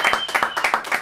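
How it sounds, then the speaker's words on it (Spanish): Spontaneous applause bursts out during a brewery tour giveaway, a quick run of close, bright hand claps in a steady rhythm over about a second. "Sí, el aplauso espontáneo que brota."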